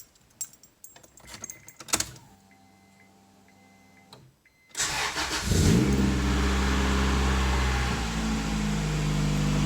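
A de-turboed, naturally aspirated Honda Integra Type R pulled from a barn, slightly smoky, cranks and fires after a few ticking clicks, then settles into a loud, steady running engine with revving close by.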